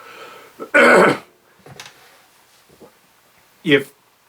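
A single sharp cough bursts out loudly and close, followed by quieter throat sounds and a second short cough-like burst, in an otherwise quiet indoor setting.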